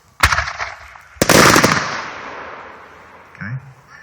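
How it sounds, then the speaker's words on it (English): A 3-inch cylinder color chrysanthemum firework with many reports sounds as two sharp, loud booms about a second apart, each trailing into a crackling rush that fades over several seconds, with a soft pop near the end. "The first one is a 3-inch cylinder color chrysanthemum with thousands of reports."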